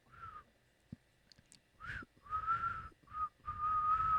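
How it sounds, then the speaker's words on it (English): A low whistle in the visual novel Snoot Game, heard as a few separate whistled notes, some short and some held, with a slight rise and fall in pitch. They sound fairly close and clear over a quiet background, with small clicks between the notes. "Impressed, I let out a low whistle."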